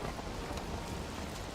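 Rain during a thunderstorm in Valheim, a dense steady hiss of falling water with a low rumbling undertone, continuous and fairly quiet with no voices.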